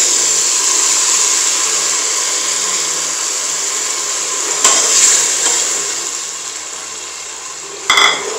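Ginger, garlic and green chilli paste fries in a pan with browned onions, giving a steady broad sizzle that runs throughout, with a couple of brief stirring clatters near the middle and end.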